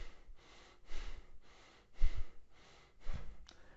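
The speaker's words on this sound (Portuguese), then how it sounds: "Então eu estou fazendo o que a gente chama de uma respiração torácica" Anxious chest breathing performed by one person, shallow upper-chest inhales and exhales repeated in a loose rhythm, close and fairly soft, with a few sharper breathy bursts and no talking.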